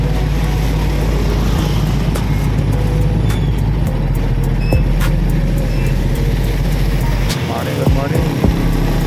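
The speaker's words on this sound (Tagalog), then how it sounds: "Ilang minuto na tayo nandito sa traffic na to." A road traffic jam of cars and buses, with a steady low engine rumble from idling vehicles close by, broken by occasional brief clicks and a short tonal burst near the end.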